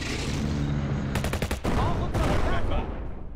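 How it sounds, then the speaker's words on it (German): Short rattling bursts of machine-gun fire from a Panzer I tank in the WWII game Tank Operations: European Campaign, two quick volleys over continuous rumbling battle and engine noise. "mit seinem MG macht der Panzer 1 da nicht wirklich viel"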